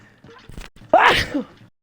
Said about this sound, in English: I'm like sneezing over here